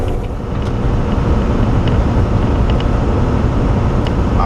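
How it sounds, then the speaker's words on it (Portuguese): A FedEx Freight triple-trailer truck passes on the opposite side of the road, heard from inside a moving truck cab as a loud, steady roadway rumble and engine drone with no talk. "Olha lá, vem um triplo do outro lado da FedEx Freight na esquerda."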